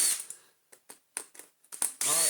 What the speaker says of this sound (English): I think the best thing to do is to remove these screws holding the front on.